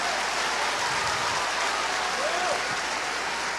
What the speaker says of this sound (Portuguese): Se é para aplaudir, aplaude todo mundo junto com vontade.